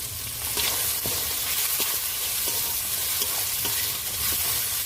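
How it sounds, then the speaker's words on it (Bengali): Chili powder, turmeric and salt fry in hot oil in a pan, giving a continuous loud sizzle with scraping stir strokes throughout, close up and without speech. "হালকা করে আর একটু ভেজে নেব"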